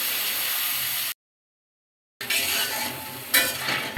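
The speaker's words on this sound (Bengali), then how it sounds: "এখন ঝোলের জন্য পরিমাণ মতো জল দিয়ে দিব" Water poured into a pan of potato and prawn curry, a steady hissing splash before and after a brief silent gap, with a louder burst near the end.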